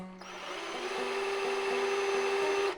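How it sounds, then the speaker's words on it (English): A power drill with a dull bit bores upward overhead, its motor giving a steady, close whine with a faint rhythmic pulsing as the bit labors, heard alone without talk. "I'm drilling uphill. It's hard to drill uphill."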